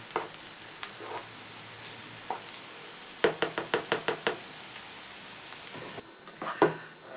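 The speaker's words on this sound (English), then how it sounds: "continue to saute over a very low heat for another 4 minutes, just stirring it from time to time" Frittata vegetables sautéing over very low heat, a soft faint sizzle broken by scattered spoon taps and a quick run of knocks against the pan as they are stirred, no voices.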